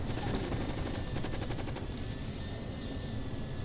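Rapid video game gunfire rattles in dense continuous bursts over a loud rumbling engine-like drone, steady and close throughout.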